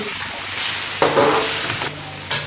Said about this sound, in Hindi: इसे मैंने मज़ीद उस वक्त तक पकाना है जब तक ये हमारे प्याज जो है ये नरम पड़ जाएं और ये जो घी है वो प्याज हमारा छोड़ दें